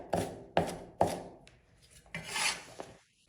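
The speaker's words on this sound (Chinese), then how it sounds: "然后我们再来把姜，随便给它切2刀" A knife chops fresh ginger into chunks on a board, three sharp, evenly spaced thuds, followed by a softer scrape and a brief clatter, close and alone.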